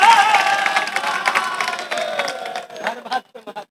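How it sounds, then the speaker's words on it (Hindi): Comedy show audience clapping and cheering together, a loud burst of applause with shouts that fades over a few seconds, ending in brief scattered voices. "आप अपने लिए एक बार ताली बजा लीजिए।"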